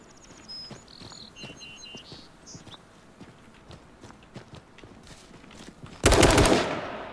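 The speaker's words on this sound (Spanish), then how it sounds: "Está disparando por el sniper." Sniper gunfire in the battle royale game H1Z1: King of the Kill. Faint ticks and small game sounds give way to one loud, sharp blast near the end that rings out briefly.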